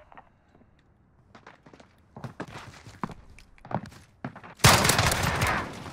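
Gunfire in a controller-versus-keyboard shooter wager match: scattered footsteps and sharp shots crackle in uneven bursts, ending in a loud sustained rattle of rapid fire.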